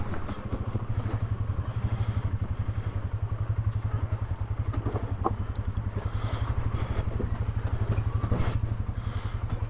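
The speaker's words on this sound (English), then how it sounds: "Go drive wheels on that boulder." An off-road vehicle crawls over a big boulder on a washed-out desert canyon trail, its engine chugging steadily and close throughout, with occasional clunks and scrapes from the rocks and no talk.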